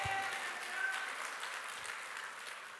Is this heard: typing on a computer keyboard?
no